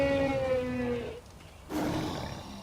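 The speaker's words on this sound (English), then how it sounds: "See, that noise is from an elephant" An elephant in the survival video game Ark lets out a loud, trumpeting call, a drawn-out tonal bellow followed after a short pause by a second rougher, rumbling roar.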